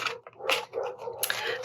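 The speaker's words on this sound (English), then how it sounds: "I don't know if you can hear my dogs barking," Several dogs bark close by in quick, loud bursts with short gaps between them, over a brief stretch in a home setting.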